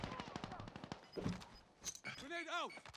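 Rapid bursts of gunfire from Call of Duty Warzone on the Verdansk '84 map, a quick volley of shots up close followed by scattered thuds, with voices talking over the action.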